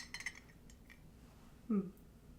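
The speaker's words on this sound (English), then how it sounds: "See, I have my spoon here. Stirring my coffee." A spoon stirring coffee in a cup, giving a few faint metallic clinks, then one brighter chime, quiet and close against a low room hum.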